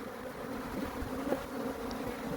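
Honey bees buzz steadily around a hive during blueberry pollination in the KZN Midlands, a dense, continuous close drone of many wings with no voices.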